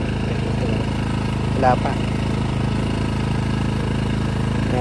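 Toyohama generator engine idling while it warms up, a steady even putter running throughout, with someone speaking briefly over it.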